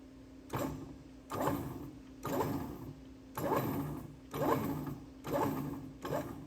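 A machine starts a tap cutting threads in a steady repeating cycle of seven rhythmic mechanical grinding bursts about one second apart, moderately quiet, over a constant low hum.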